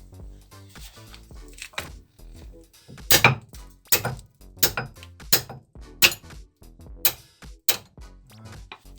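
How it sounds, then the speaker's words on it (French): Club hammer (massette) striking metal on a Peugeot 106, about eight sharp, ringing blows at an uneven pace, close and loud, with small clinks and shuffling between strikes. "On va prendre la massette."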